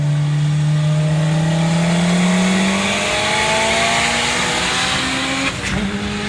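Turbocharged all-wheel-drive Mitsubishi Galant VR4 with a 4G63 engine revs loud and close, its pitch climbing steadily over several seconds before a brief dip near the end, with a rough exhaust rumble underneath.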